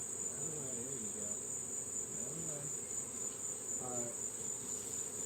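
Honeybees buzzing around an open, active hive during honey harvesting, a faint steady hum with a few louder individual buzzes passing near, no talk.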